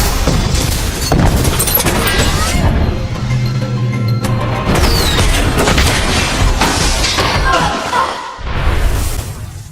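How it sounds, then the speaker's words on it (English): Heavy explosive booms and crashing debris from a tank explosion erupt in a dense, chaotic sequence, loud and close, with rumbling blasts and a brief lull near the end. "As a result of the tank explosion"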